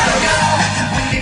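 Two men scream hysterically while riding a slingshot amusement ride, a loud, continuous, dense wall of yelling and rushing noise with no pauses.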